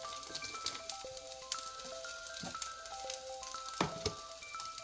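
Fried rice sizzles quietly in a home pan, a soft steady crackle with occasional sharper pops and clinks of a utensil, faint and close with no talking.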